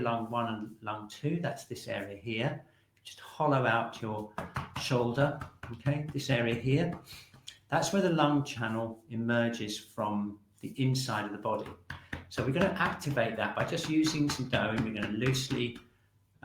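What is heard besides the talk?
None of the usual background noises is heard.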